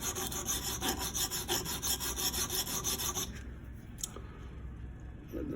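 A Hinderer Spanto knife blade rasps steadily against a metallic bonded stone in rhythmic strokes, up close, then the scraping thins and quiets partway through, leaving faint light contact.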